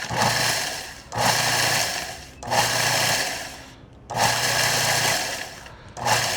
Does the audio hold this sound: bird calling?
no